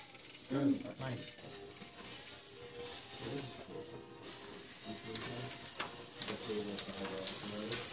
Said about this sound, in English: Marco's using a torque wrench right now because each of the bolts require a specific Newton meter